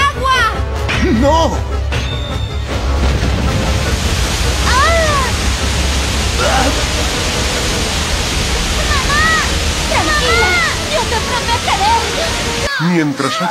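Loud rushing water roars continuously as a broad wash, with voices shouting over it and a few scattered chirpy cries; the flow cuts off abruptly near the end.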